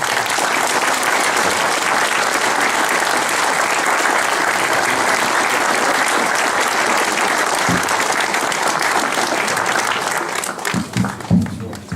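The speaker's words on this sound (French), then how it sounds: "je pense qu'on peut l'applaudir" A hall audience at a town mayor's New Year ceremony applauds a medal recipient, steady and full for about ten seconds before thinning into a few last separate claps and small knocks.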